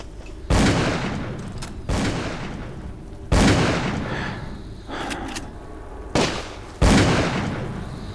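Gunfire in the Call of Cthulhu video game: five or six loud, close shots, each followed by a long booming decay and set apart by pauses of about a second, with no voices.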